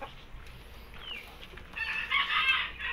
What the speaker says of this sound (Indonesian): mau cek burung merak